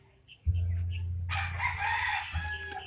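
A rooster crows loudly nearby over a low, steady hum, with faint clucks and bird calls in the background.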